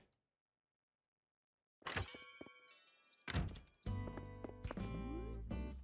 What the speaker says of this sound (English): We should be hearing the bells dinging any second